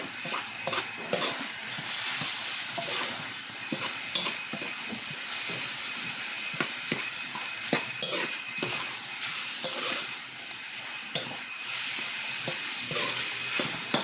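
Grated radish and ground pork are stir-fried in a pan, giving a steady hiss and sizzle broken by frequent scraping and clacking of a spatula as the food is tossed and stirred, close and continuous with no voices.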